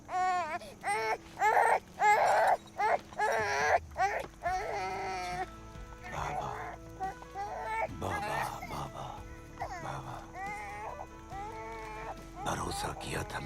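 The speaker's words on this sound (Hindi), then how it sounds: "बच्चे के रोने की आवाज आ गई" A baby cries in short, wailing bursts, loud and close, followed by stretches of people talking over a steady low background tone.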